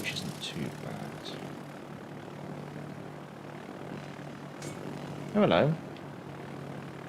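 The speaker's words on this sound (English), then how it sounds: "I'm actually detected by aircraft, which isn't too bad." Aircraft fly overhead in the naval video game World of Warships as a steady, continuous engine drone, with a voice speaking briefly near the end.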